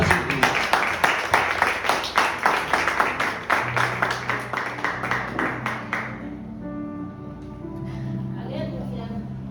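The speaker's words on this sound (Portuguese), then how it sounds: "Uma salva de palmas para Jesus." A church congregation claps together in a fast, steady rhythm for about six seconds, then the clapping stops and sustained music carries on in a reverberant hall.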